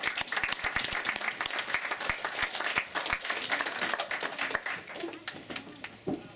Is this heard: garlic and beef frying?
no